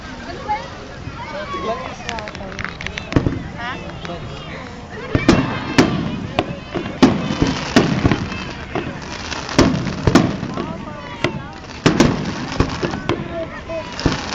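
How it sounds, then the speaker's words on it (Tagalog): Repeated sharp firework bursts crack at irregular intervals at the 2008 World Pyro fireworks competition at Mall of Asia, some loud and close, with people talking throughout and a steady rumble underneath. "Pero napaka-common ng fireworks na ganyan eh."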